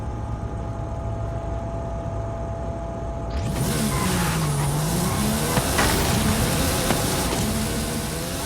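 Mercedes-AMG One racing in a video game, engine noise swelling in after a quieter opening, with a sustained loud drone, pitch swings and brief tire squeal, no talking.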